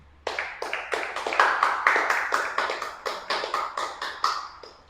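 A congregation clapping hands together in a steady rhythmic beat, about a dozen loud, close claps in quick succession with a slight echo and no talking.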